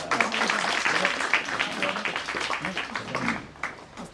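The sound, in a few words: audience applause at a book launch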